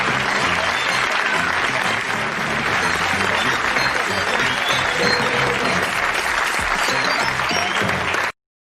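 A large audience gives loud, sustained applause at a show, dense clapping with some crowd noise that continues steadily for about eight seconds before stopping abruptly.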